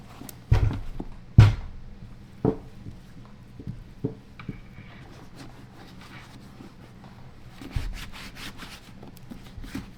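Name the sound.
wax being rubbed onto leather boots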